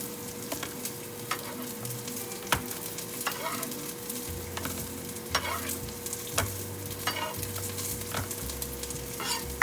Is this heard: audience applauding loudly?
no